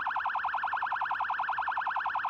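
A vehicle alarm in the survival video game Cataclysm: Dark Days Ahead wails with a fast, rapidly warbling electronic tone that repeats evenly and loudly for the whole span, with no talk.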